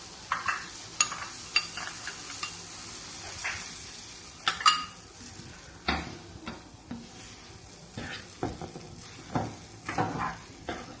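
Cornflour blended into milk is poured into a masala for a cheesy dish and stirred, giving soft scraping, clinking and light sizzling in irregular bursts, fairly close and quiet, with no talking.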